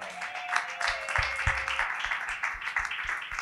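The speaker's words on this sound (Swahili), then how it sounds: "Ongeza makofi." An audience applauds at a testimony gathering, a dense wash of clapping with scattered louder claps, fairly close and sustained throughout without speech.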